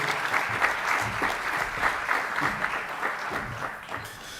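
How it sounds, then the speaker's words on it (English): Warm, sustained applause from an audience at a Memorial Union student and staff awards event, with dense clapping holding steady and loud as a speaker walks onto the stage. "Please give a warm round of applause to Kevin Drury as he enters the stage."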